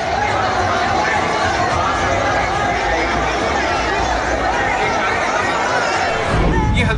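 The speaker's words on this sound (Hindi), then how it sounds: "तिलमिलाई भीड़ सड़क पर जमा होकर नारेबाजी करने लगी" Crowd gathered on a street in Haldwani, a dense, loud mass of raised voices and shouting held steady throughout, with a brief burst of noise near the end.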